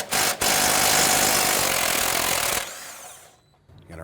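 A power tool spins loud and steady for about two and a half seconds, briefly interrupted near the start, on the bolt joining the steering knuckle to the upper control arm of an Infiniti G37, then winds down into quiet.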